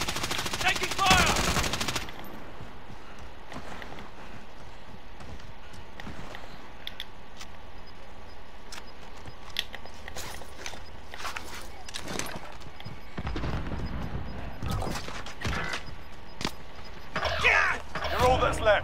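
Automatic rifle fire in the battle royale shooter Warzone, with bursts of gunshots cracking through a steady din of game sound and a loud flurry near the start and end.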